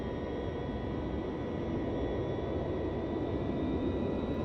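Boeing 707 jet engines in Flight Simulator X spool up under the throttle, a steady broadband roar with a faint high whine that holds at an even, loud level throughout.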